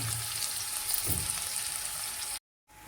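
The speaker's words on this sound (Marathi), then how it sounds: "आता तेल तापलेलं आहे आता आपण पहिल्यांदा कांदा घालूया आणि तो कांदा व्यवस्थित लालसर होईपर्यंत परतून घ्यायचा" Chopped onion sizzles steadily in hot oil as it goes in to fry until reddish-brown, a dense crackling hiss with a brief louder burst near the middle, then a short break.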